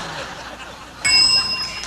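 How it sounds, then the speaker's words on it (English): A game show bell rings once, a bright sustained ding that cuts in partway through and rings on over faint background chatter. "describe it when you hear the bell"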